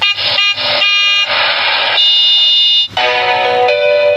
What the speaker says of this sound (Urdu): بلا وجہ ہارن بجا کر دوسروں کو ذہنی اذیت میں مبتلا نہ کریں۔